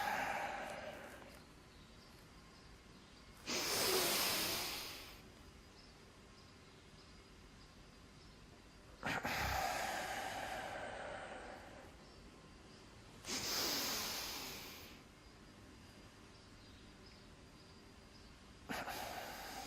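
Forceful double breaths with tension during a yoga energization exercise, four loud broadband bursts of breath spaced a few seconds apart, each sharp inhale-exhale rush over a quiet room hiss, with no talking.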